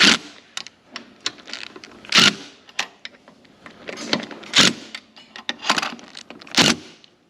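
Bolts on a Toyota Tundra throttle body and intake get tightened with a hand tool, a series of sharp close ratcheting clicks and metallic bursts in uneven rhythm, no voices.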